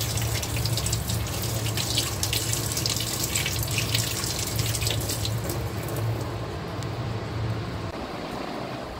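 Tap water runs steadily and close into a sink as jamun fruit are rinsed under it, a continuous splashing rush that fades near the end.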